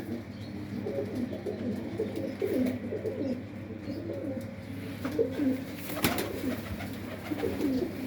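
Soft, low pigeon coos repeat in rumbling bursts during pigeon vaccination, over a steady ambient hum, with a few scattered chirps; no one speaks.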